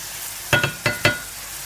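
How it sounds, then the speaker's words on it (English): Onions fry in rendered ram fat under a soft steady sizzle, broken by four quick scraping knocks of a big spoon stirring the pan, close up and without talk. "onion has already fried and covered with the so-called golden color"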